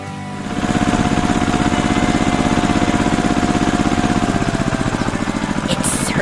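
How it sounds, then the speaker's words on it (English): A red animated tractor's engine runs steadily through a cornfield harvest, a loud, continuous mechanical chugging with a rapid rhythmic pulse that holds at an even level from start to finish. "The red tractor makes its way through the cornfields and is ensuring everything is gathered efficiently."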